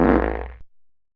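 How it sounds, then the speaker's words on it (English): A loud fart lets rip on a school bus, a single buzzy burst lasting over half a second before cutting off sharply, followed by a faint trailing tail. "Someone farted on the bus."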